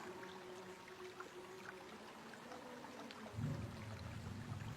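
Water splashes onto a floor spot to wash away an impurity, a single short pour starting partway through after quiet room tone and running to the end.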